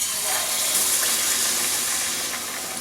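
Battered ripe banana fritters, Kerala pazhampori, frying in hot oil give a steady, loud crackling hiss that runs unbroken through the clip with no voices.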